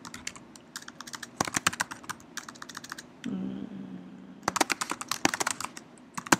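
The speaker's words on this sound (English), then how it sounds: "And then here, you can type in an assignment here." Fingers type on a computer keyboard in quick bursts of close, crisp key clicks, broken by a short pause filled with a faint low hum before the rapid tapping resumes.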